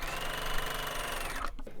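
A sewing machine stitches two pieces of fabric together for a quilted table runner, running in a fast, steady mechanical patter close by, then stopping abruptly near the end.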